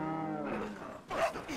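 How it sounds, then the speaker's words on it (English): A low, drawn-out cow moo with a game-like tone in Resident Evil 4, followed by a second shorter call, with a voice partly overlapping. "we got the cows mooing"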